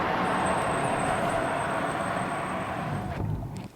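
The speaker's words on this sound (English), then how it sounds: "open the window and you guys can hear the noise outside." Steady broadband road and wind roar through an open window of a NIO ET5 car at about 60, continuous and loud, with a faint high whine, easing toward the end.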